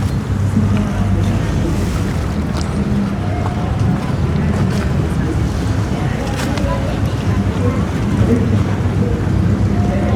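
A cruise boat moves along the Chao Phraya river in Bangkok during a festival, its steady engine drone mixed with water wash and wind buffeting the microphone throughout.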